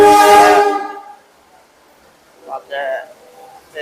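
A train horn blasts loudly at a railway station platform on the Solo to Semarang line, then fades out, followed by brief, fainter tonal bursts a couple of seconds later.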